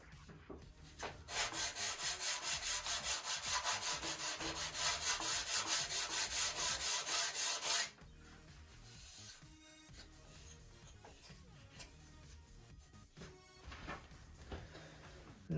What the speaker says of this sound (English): Alright, I think I'm done sanding.